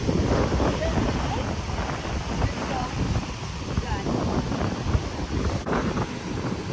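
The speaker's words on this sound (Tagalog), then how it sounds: "ang lakas ng hangin" Strong wind roars and buffets the microphone in uneven gusts, with muffled voices faintly underneath.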